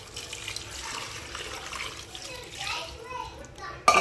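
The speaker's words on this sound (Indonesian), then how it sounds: "Kemudian kita masukkan 600 ml air." Water is poured into a cooking pot, 600 ml of it, giving a steady splashing, gurgling stream under a voice talking, ending with a brief clink.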